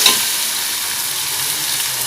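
Crushed green chillies go into a pan of vegetable pulao, which keeps up a steady bright sizzle and frying hiss with a faint stir at the start.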